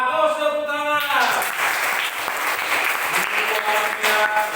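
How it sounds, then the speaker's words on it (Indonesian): Classroom applause breaks out after a short burst of voices, then a dense, steady round of clapping from many pupils that fills the room at close range for several seconds. "bagus tepuk tangan"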